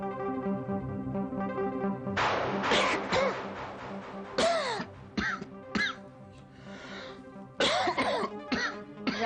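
A man coughs repeatedly indoors, a run of harsh, hacking bursts and throat clearing separated by brief pauses, close and loud, with no speech.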